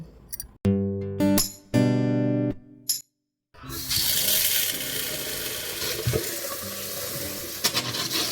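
Water runs from a kitchen tap while lentils are washed. A few short tonal bursts and a pause come first, then the tap gushes in a steady, close stream until the end.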